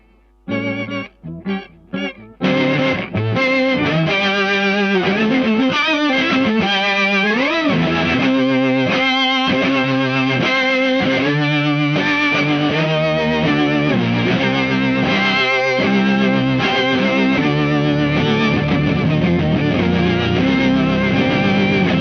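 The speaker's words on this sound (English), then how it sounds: "Very organ-y sound." An electric guitar through an MXR Poly Blue Octave pedal begins with a few short plucked notes, then swells into sustained, swirling, organ-like chords with a Leslie-style rotary wobble, loud and continuous.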